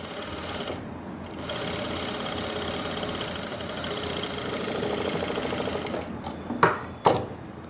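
A sewing machine runs steadily, top-stitching the pocket-side seam of palazzo trousers, a continuous close motor whir that slows near the end with a couple of sharper clacks as it stops.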